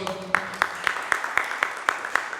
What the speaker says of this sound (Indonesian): Tepuk tangan untuk Tuhan ya.